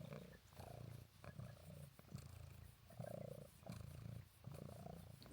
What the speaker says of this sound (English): She's purring up a storm.